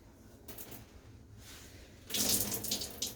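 Water splashes and trickles into a bathtub as wet clothes are wrung out by hand, a soft steady drip building to a louder, closer gush of pouring water near the end.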